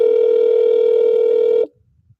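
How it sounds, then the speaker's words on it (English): A telephone voicemail beep sounds as a single loud, steady pure tone held for about a second and a half, then cuts off abruptly into near silence with a couple of faint clicks. "You have reached the voicemail box of 626."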